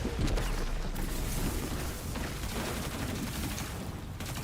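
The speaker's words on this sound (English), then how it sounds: "Ransom, I will tell you that your Wicked Implement is tearing them up right now." Gunfire from the Wicked Implement weapon in a video game rattles out in dense, rapid bursts, loud and continuous, with overlapping shots and impacts and no clear speech.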